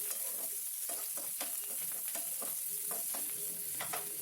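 Curry leaves and green chillies frying in hot oil for brinjal chutney give a steady close-up sizzle, broken by sharp crackles and spatters at irregular moments and occasional stirring, with no voices.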